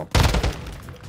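A short, close burst of gunfire in the video game Warzone 2, a sharp onset followed by a few rapid shots that fade into a brief tail.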